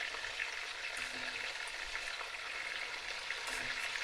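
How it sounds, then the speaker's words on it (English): Chopped onions and peppers with flour sauté in leftover grease for a squirrel sauce piquante, a soft continuous frying crackle with occasional stirring scrapes, fairly quiet throughout. "we're gonna put our chopped up onions and peppers and all in this grease that's left, and we're gonna saute it around"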